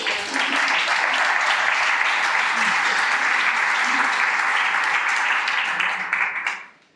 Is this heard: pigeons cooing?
no